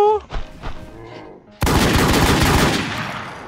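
Gunfire in the survival shooter game Infestation The NewZ, a sudden loud, dense burst of rapid shots that runs on for about two seconds after some brief game noises.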